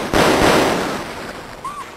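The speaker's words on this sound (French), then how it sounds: "on entend des coups de feu à la plage sud" Gunfire rings out at the south beach in the Maupiti Island video game, a loud single burst with a long noisy decay under surf-like wash, followed by a faint short tone.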